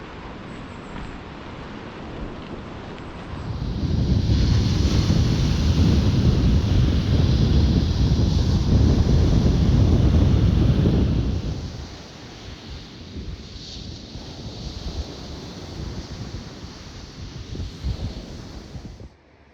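Loud, steady roar of ocean surf with wind gusting over the microphone on Dungeness Spit, near Sequim, Washington; the wash swells heavily for several seconds, then eases to a rougher, lighter rush.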